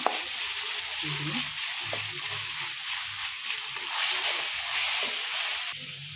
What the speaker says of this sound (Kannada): ಈಗ ಶುಂಠಿ ಬೆಳ್ಳುಳ್ಳಿ ಪೇಸ್ಟ್ ಹಾಕ್ಕೊಳ್ತಾ ಇದ್ದೀನಿ. ತುಂಬ ಫ್ರೈ ಮಾಡ್ಕೊಳ್ಳೋಣ.